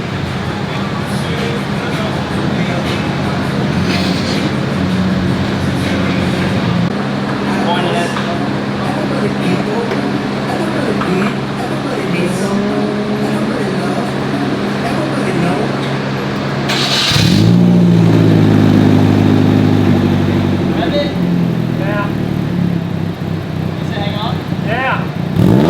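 Modified exhaust on a Nissan 240SX drones at a steady idle, then a loud rev surges partway through and settles back, with voices talking over the engine.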